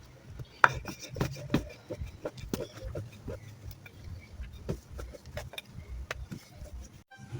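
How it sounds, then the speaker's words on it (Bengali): Chicken momo dough being rolled out into small wrappers by hand, a low scraping, rubbing rumble with soft irregular taps and knocks, close and fairly quiet, with no talking. "এখানে এখন আমি রুটি বানিয়ে নেব।"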